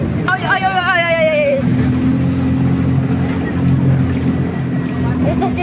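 A motorboat runs steadily along a beach estuary in El Salvador, its engine a constant drone under the wash of water, with voices calling briefly over it at the start.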